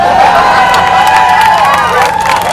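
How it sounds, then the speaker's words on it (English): Large audience at a live comedy Q&A night in Brooklyn, New York, cheering and whooping loudly and continuously, with a dense wash of crowd voices throughout. "seeing a big crowd"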